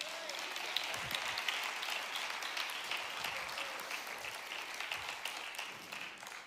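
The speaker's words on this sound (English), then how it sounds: "can you clap your hands?" A church congregation clapping their hands together, a fairly faint, continuous patter of many hands that tapers off at the end.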